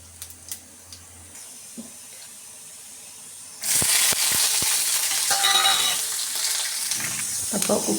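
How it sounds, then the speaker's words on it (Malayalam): Shredded cabbage and onion tossed into hot oil for tempering in a pan on a home kitchen stove, a sudden loud sizzle after quiet clinks and shuffling, then steady frying with stirring scrapes. "മുട്ടക്കോസ് ഉള്ളി ഒക്കെ താളിച്ച് ഒക്കെ ഇട്ടിട്ടുണ്ട് കേട്ടോ"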